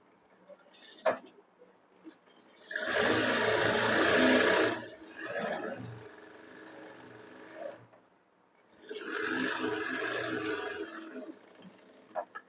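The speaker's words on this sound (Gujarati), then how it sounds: "ફરી એકવાર એની ઉપર આપણે સિલાઈ લગાડી દેવાની." Electric sewing machine stitching a princess cut blouse, running in two steady whirring bursts of a few seconds each, separated by a pause with light handling clicks, close and fairly loud.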